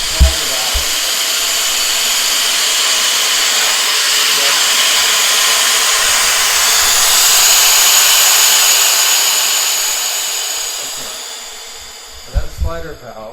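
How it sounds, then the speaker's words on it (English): Compressed air hisses steadily into a truck's air brake system slider valve, a loud continuous broadband rush that swells and fades over several seconds before a few brief clunks near the end. "we're going to turn on some air to this and see what it does"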